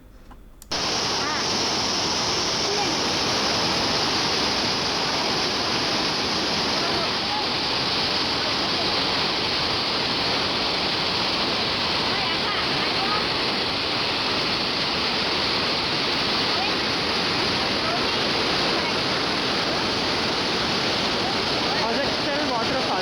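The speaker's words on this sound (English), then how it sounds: "the water is gushing down in several tiers" Tiered waterfall at Vazhachal near Athirapally, water gushing down several tiers: a loud, steady broadband roar that continues unbroken throughout after a brief quiet start.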